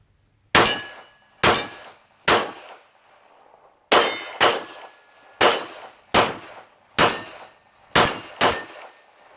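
Shots from a Sig Sauer X5 pistol strike angled steel targets outdoors, making about eleven sharp ringing clangs, each with a sharp crack at its onset and a short decay, fired at a brisk, slightly uneven pace.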